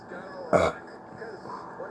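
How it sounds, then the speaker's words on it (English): One short, loud burp breaks through a quiet background halfway in, a single gulp of air that lasts only a moment. "Oh, man, that made me feel better, burping out that air."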